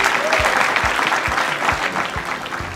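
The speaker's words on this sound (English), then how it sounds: "Let's get a round of applause." A conference audience claps in a dense, steady round of applause that stays even and fairly loud throughout the short stretch, with faint voices underneath.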